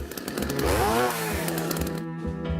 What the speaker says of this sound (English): Think warthog. With a chainsaw.